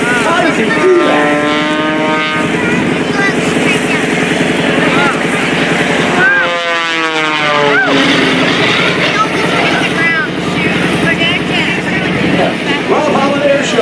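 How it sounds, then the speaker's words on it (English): An aerobatic airplane performs at an airshow, its engine droning and swelling with pitch changes as it rolls and climbs, heard from a distance under excited commentary from a man. "The aircraft on its nose, just holding, rolling."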